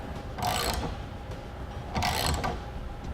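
Mechanical ratcheting and clicking from a tool tightening the front base rail of a Thule TracRac SR sliding ladder rack on a truck bed, in two short bursts with a quiet gap between.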